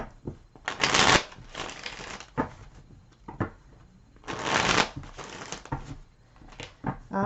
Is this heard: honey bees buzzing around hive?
no